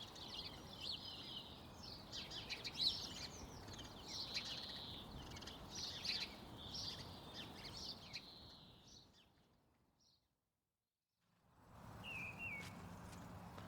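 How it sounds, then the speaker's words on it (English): Birds singing across a farm in mild weather, faint whistled phrases repeating over a soft outdoor background, pausing into near silence briefly before another call returns. "The birds are certainly enjoying themselves in this milder weather"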